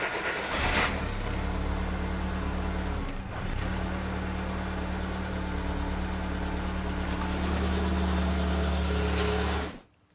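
A Peugeot 205 engine after an oil change, running steadily at idle for about ten seconds with a low, even hum and rumble, a brief dip near three seconds, then cutting off at the end.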